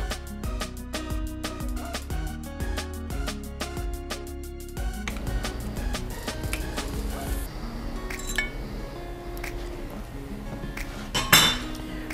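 A metal Ortiz latch lock is worked free from the bracket of a sliding glass door, giving a run of sharp metallic clinks and taps, followed by softer rattles and scrapes up close, with no voices.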